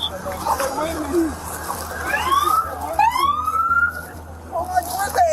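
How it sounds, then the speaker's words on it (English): An ambulance siren wails and sweeps up and down in pitch, fairly close, with distressed voices talking and shouting over it. "Oh my God, the ambulance!"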